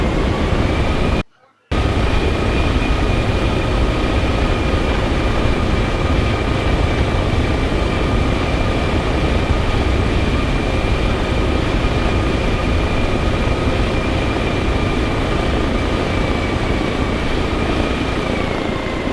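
A Little Bird helicopter in Arma Reforger drones steadily, loud and close, with a constant rotor and turbine whine holding pitch throughout, broken only by a brief dropout near the start and a voice speaking over it.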